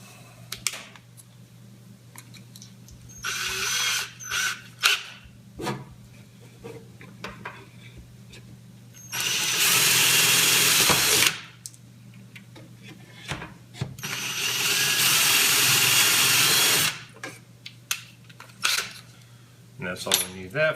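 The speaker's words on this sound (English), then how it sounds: "now we can drill our last 2 holes" Two loud bursts of a power drill whirring as it drills holes while building a stir plate, each lasting a couple of seconds, separated by clicks, taps and handling noises nearby.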